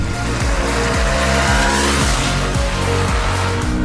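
A Bajaj Pulsar NS200 or NS160 motorcycle engine drones loud and close as it is ridden, with a rhythmic pulsing that rises and dips as the rider shifts through gears.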